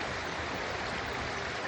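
Stream water runs steadily over and around still rocks just below the surface, a continuous broadband rush with no voices.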